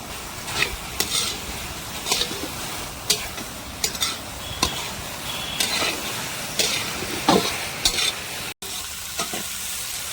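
Oil sizzles steadily in a pan while eggs fry for egg curry and a utensil scrapes and stirs in irregular strokes, with occasional sharp clinks against the metal.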